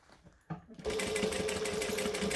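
Sewing machine stitching binding onto a hussy case, starting after a brief soft clunk and then whirring in a steady, fast, close rhythm.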